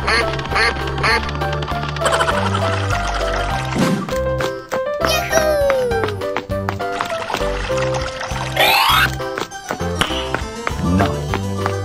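A giant duck quacks repeatedly, with loud, close quacks scattered through a busy mix of watery pouring, splashing and tapping sounds; no one speaks.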